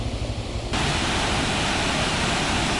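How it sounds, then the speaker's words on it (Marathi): Runoff from farm fields pours down in a waterfall-like cascade during the Bhandardara monsoon, a steady loud rushing roar that swells after a brief quieter start and holds dense and unbroken. "इथून वाहत येणाऱ्या शेतीमधलं हे पाणी खाली पडत आहे."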